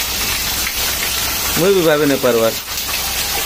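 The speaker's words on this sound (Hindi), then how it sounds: "एते जोर वर्षा" Heavy rainfall in Bhawanipatna makes a steady, loud hissing downpour throughout, while someone speaks briefly over it at close range.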